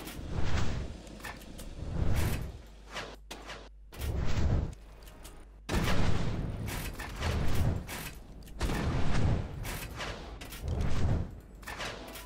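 A weapon fires repeatedly in Ark Survival Evolved, each shot a loud, booming discharge with a mechanical edge, spaced at roughly regular intervals of about a second and a half, close and distinct against quieter gaps.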